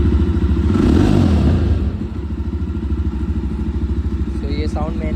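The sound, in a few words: Jawa Bobber 42 motorcycle engine revving with loud exhaust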